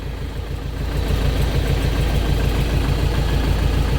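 The engine of a Scout TV-904 C tractor, not yet warmed up, runs at a steady close drone that grows louder after the first second and then holds even, with no talk over it.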